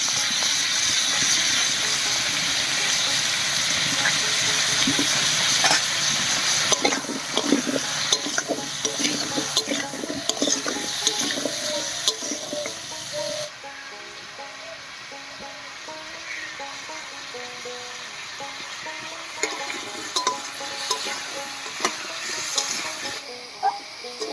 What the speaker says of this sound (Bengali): আলু আর পেঁপেটা বেশ লাল করে ভেজে নিয়েছি